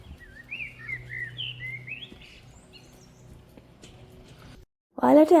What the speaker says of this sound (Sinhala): ඒ කියන්නේ අර කුරුල්ලන්ගේ සද්දේ